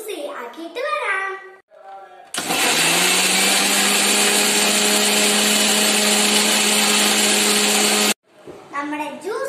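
Electric blender whirs loudly and steadily for about six seconds, mixing banana, sugar, milk and cardamom into a milkshake, with a voice talking briefly before it starts and again after it stops.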